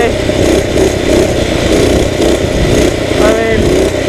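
A motorcycle engine revs continuously while being ridden in a wheelie, loud and close with a steady rough drone and small surges in pitch, and a voice talks over it.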